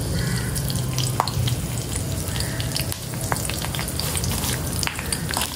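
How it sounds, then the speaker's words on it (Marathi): Curry leaves crackle and spit in hot oil heated for tempering, a dense, steady sizzle peppered with sharp pops, loud and close throughout. "कढीपत्ता असा मस्त तडतडला आपला"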